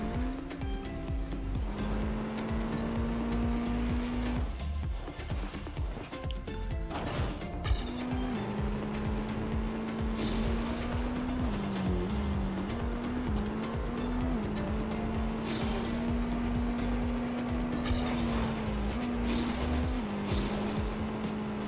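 A racing car in Trackmania 2 drones on with a steady, slightly wavering engine whine and bursts of tire and surface noise. The engine stays loud and continuous, with no talk over it.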